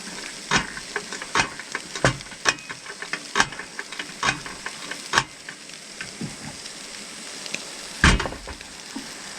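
Potatoes frying in a heavy pot on a Primus stove, giving a constant close sizzle and hiss with sharp irregular pops and crackles scattered throughout.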